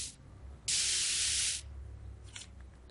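A spray paint can in the Back to the Future video game lets out a single loud, steady hiss lasting about a second, followed by quiet background ambience and a faint brief noise.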